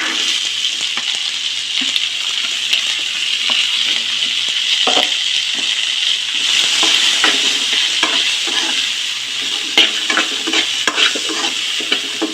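Sweet corn kernels fry in two tablespoons of oil, making a loud, continuous close sizzle with bursts of crackle and scraping from steady stirring throughout, and no speech.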